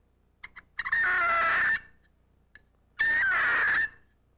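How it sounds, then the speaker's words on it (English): A friction turkey call gives two long raspy yelping strokes as the striker is dragged across its surface, each preceded by short light scratches, loud and close against a quiet background. "Listen as I drag the striker across the call."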